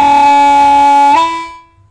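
A single sustained blues harmonica note, bent low for a gritty tone, holds steady for about a second, dips slightly, then fades out. It sounds close and loud.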